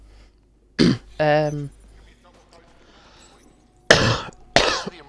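A person coughs twice in sharp, close bursts near the end, after an earlier short cough and a brief voiced throat sound, with quiet pauses between.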